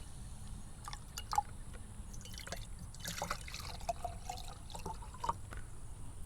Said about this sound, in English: we're going to fill each one of them halfway with water.